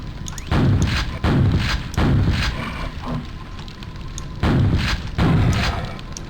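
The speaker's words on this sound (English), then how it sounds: "Okay, well here's a double-barreled shotgun." Double-barreled shotgun blasts in a video game fight against a fiend, several heavy booming shots in irregular pairs over about six seconds, loud and close with rumbling tails.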